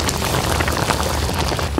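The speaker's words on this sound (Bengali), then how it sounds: "বৃষ্টি হইতেছে" Rain falls steadily in a dense, close, broadband patter with no break for about two seconds, loud and constant.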